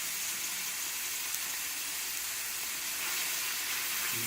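Basil sizzling in a hot pan with garlic: a steady, even frying hiss that fills the whole stretch at moderate level, with no voices.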